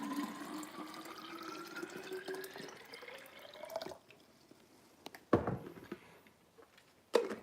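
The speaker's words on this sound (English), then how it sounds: "I'm just filling water in my Nalgene." Tap water runs into a Nalgene bottle, its pitch climbing steadily as the bottle fills. The flow then stops, leaving a few louder clunks and drips.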